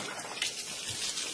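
Tap water runs steadily over sun-dried tomatoes to rinse off their oil, a soft, continuous splashing stream close by with no talking.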